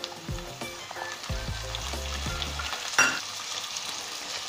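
Onion and tomato sautéing in a pan for Maharashtrian masale bhat, a steady close sizzle broken by several sharp scrapes and clanks of a spoon against the pan, with no talking.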